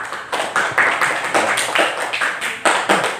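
Classroom students clapping in unison, a rhythmic series of sharp, evenly spaced group claps at a brisk steady beat, close and fairly loud.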